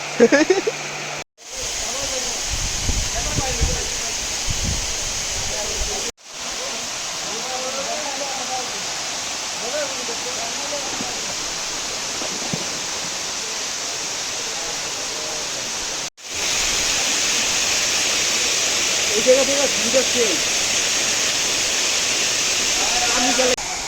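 Rupashi waterfall on the Komoldoho trail roars with loud, constant rushing water, its broad hiss interrupted by a few abrupt cuts before resuming at full strength.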